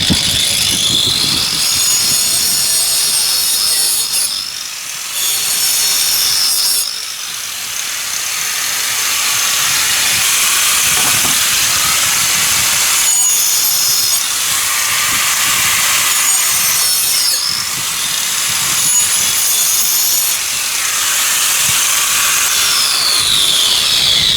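A small 115 mm power tool whines steadily as it cuts through wood for garden furniture, loud and close, with brief dips in pitch as the blade bites and eases.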